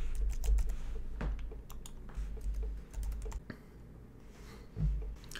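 Someone types a password on a computer keyboard in an irregular run of soft, close key clicks with short pauses between them, and no one speaks.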